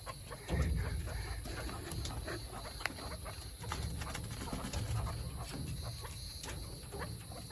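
A male chukar partridge calls with clucking notes while guarding its females, the calls repeating over a steady background hum at moderate distance, with no talk.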